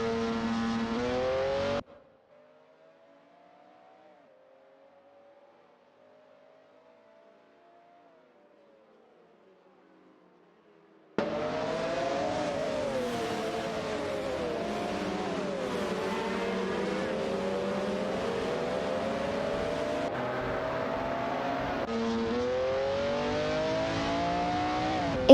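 Race cars in an AI racing video game roar with layered, shifting engine whines; a long near-silent gap with only a faint engine tone breaks the sound before the loud engines return and run to the end.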